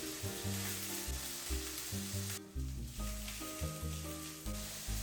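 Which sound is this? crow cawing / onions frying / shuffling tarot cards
onions frying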